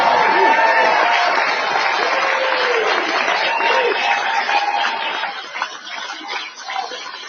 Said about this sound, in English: Crowd actually went pretty crazy